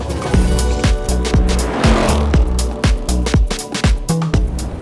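A 2024 Ford Mustang GT at speed on the Sebring race track, heard from inside with a steady engine drone punctuated by rapid, sharp thumps and clatter as the car rides over the track surface.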